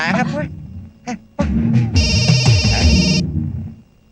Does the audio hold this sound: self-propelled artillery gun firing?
no